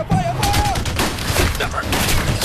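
Heavy gunfire in a movie shootout at a terminal with a sniper, from The Balkan Line, as close, loud rapid volleys crackle continuously, with voices over the shots.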